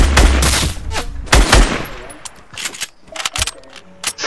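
Video game gunfire in a multiplayer shootout, with several loud, sharp bursts and single shots in the first half, then scattered quieter shots and clicks, all under overlapping game sounds.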